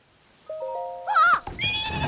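A horse in the video game Zelda: Tears of the Kingdom lets out one loud, wavering neigh that rises and falls over about a second, followed by game sounds, with no talking.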